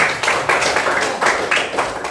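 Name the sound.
class clapping for a student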